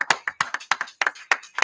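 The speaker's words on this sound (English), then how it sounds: "clap it up, clap it up," A small audience clapping in a loose, uneven rhythm, about a dozen sharp distinct claps from only a few hands, close and crisp with gaps between them.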